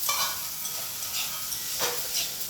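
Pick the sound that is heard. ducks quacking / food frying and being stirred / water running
food frying and being stirred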